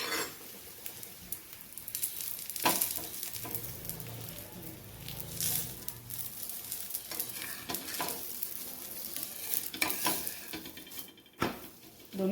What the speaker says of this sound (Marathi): याच्यावरती आपण पराठा टाकून घेऊया आणि साईडने याला तेल सोडून घेऊया